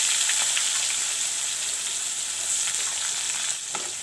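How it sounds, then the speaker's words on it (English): Onions frying in hot oil with panch phoron spices crackle and sizzle loudly and steadily, a dense close-up hiss with small popping bursts throughout. "Let the onions fry with the paanchphoran."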